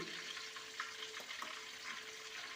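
Onions wilting and sautéing in a hot pan before masala goes in for a Kerala chicken fry and roast, giving a steady, close sizzle with faint crackles and no voices.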